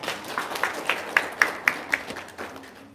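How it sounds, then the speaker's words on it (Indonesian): A small audience at an Indonesian testimonial talk gives a short burst of scattered clapping, about seven or eight distinct claps spread over a few seconds, fairly near and moderately loud, then tapering off. "Tepuk tangan dong."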